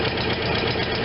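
Kohler Command Pro 25 engine idling on a Vermeer BC625a brush chipper, a steady, close, rumbling mechanical drone.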